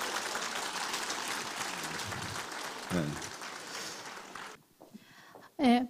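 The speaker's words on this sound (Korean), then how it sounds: "큰 박수 부탁드리겠습니다." An indoor audience gives a sustained round of applause at a business gathering, dense clapping filling the room for several seconds before tapering off, followed by a brief spoken voice.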